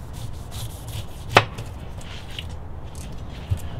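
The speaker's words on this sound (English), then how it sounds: "cut off the bottom" A knife cuts the bottom off a pineapple with one crisp, close chop, followed by a fainter knock later against a soft background of rubbing and handling.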